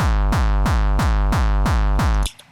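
Seven heavy, distorted synthesized artcore kick drum hits, shaped by a distortion curve, repeat at a steady, even pace, each booming with a gritty pitch-dropping tail, then silence.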